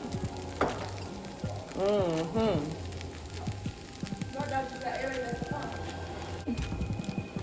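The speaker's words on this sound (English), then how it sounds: "We're gonna throw the egg right on the side of the rice. We're gonna cook that up." Egg cooking in a pan beside rice, a steady frying sizzle running under intermittent talking, with occasional stirring and utensil clinks.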